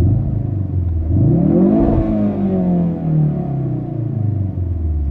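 A 2016 Ford Focus RS on its stock exhaust revs up in a rising sweep and settles back, a loud, close, continuous engine rumble with no talking.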